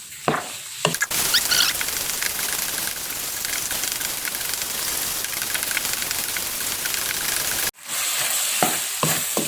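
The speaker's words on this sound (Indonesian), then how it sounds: "Oke, jagung manis ini tidak terlalu lama kita masaknya. Kita aduk rata." Sweet corn and chicken being stirred in a hot frying pan, a loud, dense sizzle with scraping stirs near the start, a sudden brief drop in the middle and more stirring clatter at the end.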